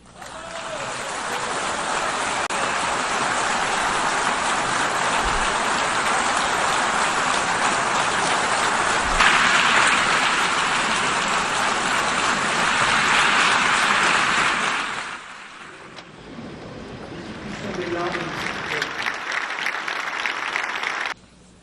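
A large audience gives French President Emmanuel Macron a standing ovation as he recognizes Palestine, a dense, sustained wash of clapping that drops off briefly near the end, then swells back up.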